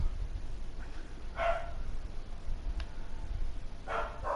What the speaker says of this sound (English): Y'all hear my dog?